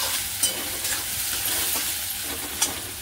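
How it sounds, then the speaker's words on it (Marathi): Cashew masala sizzles steadily in a pan while a spoon stirs it, giving a close, continuous frying hiss with a couple of sharp scraping clicks. "चांगलं खालीवर करून असं फ्राय करून घ्यायचं, चांगले 5-6 मिनिटं याला हलवत राहायचं"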